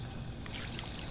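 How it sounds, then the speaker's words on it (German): A character drinking water in the video game Fallout 4: a soft trickling pour that swells into a brighter, fuller gush partway through, close and alone. "So, Wasser trinken."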